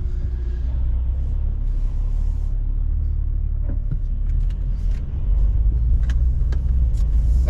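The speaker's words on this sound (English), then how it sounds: "rather than taking the Yaris GR today, we're in the Porsche, the 992" A Porsche 992 cruises along the road, a constant low engine and road rumble heard from inside the car, with faint clicks and rattles over the drone.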